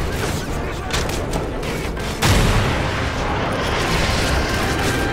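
A rocket launched at a tank in Call of Duty MW3 bursts with a sudden loud boom partway through, over a steady wash of battlefield gunfire and noise that continues after the hit.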